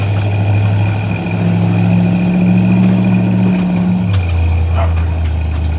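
A numbers-matching 1973 Chevrolet Corvette with a 454 V8 idles in a steady, deep rumble that holds throughout, dropping slightly lower in pitch near the end, with no talk over it.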